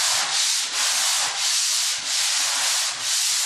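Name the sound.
hand sanding drywall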